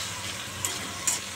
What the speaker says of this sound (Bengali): আর গোটা জিরে দিয়েছি, কাঁচা লঙ্কা দিয়ে, শুকনো লঙ্কা দিয়ে নিই ফোড়ন